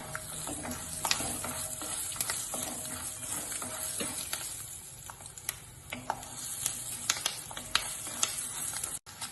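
Peanuts crackle and sizzle in hot oil for a tempering for avalakki bisi bele bath, with a steady close frying hiss broken by sharp clicks and scrapes as a spoon stirs the pan.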